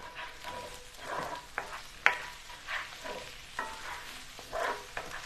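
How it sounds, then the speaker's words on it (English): Sauce with red pepper flakes is stirred in a sizzling pan for a chicken dinner: a steady frying hiss broken by several soft scrapes and knocks of the spoon, close and fairly quiet, with no talking. "And give this a stir."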